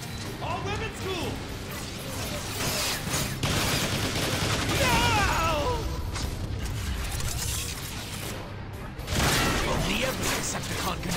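Rapid automatic gunfire from a machine gun in the Transformers: War for Cybertron video game, loud and sustained bursts mixed with mechanical clanks and crashing impacts, with a voice talking over the action.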